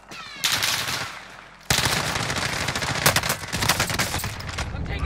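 Rapid bursts of automatic gunfire in a Call of Duty Warzone match, loud and close, with repeated volleys and crackling shots over a dense battle backdrop.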